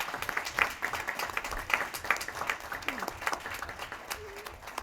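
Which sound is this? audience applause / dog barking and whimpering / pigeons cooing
audience applause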